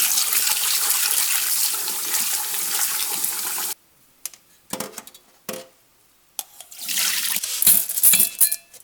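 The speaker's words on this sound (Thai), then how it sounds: "จะล้างสักสองสามน้ำ" Soaked Job's tears grains are rinsed in water, with loud pouring and swishing, a brief pause filled by a few splashes, then more rushing water.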